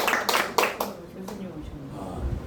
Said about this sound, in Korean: 여러분 모두를 위해서 박수합니다.